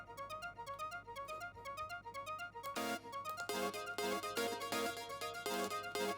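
A synth arpeggio ticks out bright repeating notes with echoing delay tails, then layered synth chords carrying the same delay enter and pulse in short rhythmic stabs against it, in a NuDisco edit.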